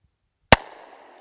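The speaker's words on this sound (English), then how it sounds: "All right, I can shoot a lot better than that." A single loud gunshot from a Taurus Raging Hunter .460 revolver, a sharp crack out of near silence followed by a short ringing decay outdoors.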